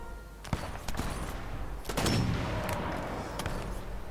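Gunfire in the shooter game Sniper Elite 4 against a low rumbling background, several sharp cracks spread across the moment with one heavier blast in the middle.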